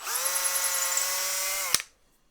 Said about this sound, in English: To get these 2 holes drilled without catching the body of the guitar